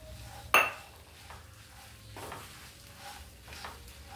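Sesame seeds roasting in a hot pan, opening with a sharp metallic clank of a utensil against the pan, followed by quiet stirring scrapes and a faint, low sizzle.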